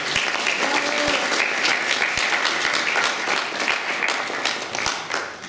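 An audience claps steadily at a cultural event in a hall in Feketić. The applause is dense and sustained, then thins slightly toward the end, with no speech over it.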